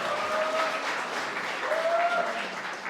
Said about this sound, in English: let's give him a great applause